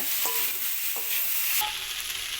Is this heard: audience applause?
no